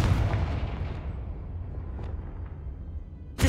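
A Confringo fire spell in Hogwarts Legacy lands as a booming blast, its rumble trailing off over a few seconds before a second sharp impact near the end.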